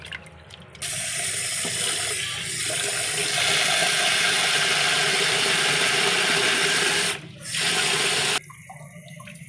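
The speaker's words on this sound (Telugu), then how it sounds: "ముందుగా నేను బీఫ్ని బౌల్లో వేసుకొని సాల్ట్ యాడ్ చేసుకొని శుభ్రంగా కడుక్కుంటున్నాను." Raw beef is rinsed by hand in a bowl of salted water, giving a loud, steady wash of sloshing and splashing that runs almost the whole time, with a short break near the end.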